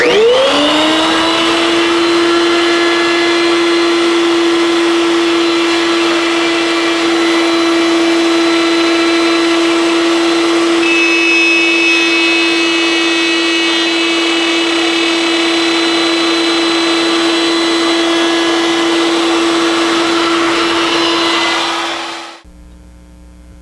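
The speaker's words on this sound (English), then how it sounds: "I'm using my router table, while I will incrementally increase the depth of the router bit" Router table running steadily while cutting a mortise in wood about half an inch thick, a loud continuous motor whine holding one pitch for about twenty seconds before spinning down. No one talks.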